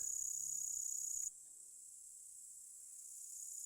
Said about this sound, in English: The obstinate bush cricket keeps climbing up a grass stem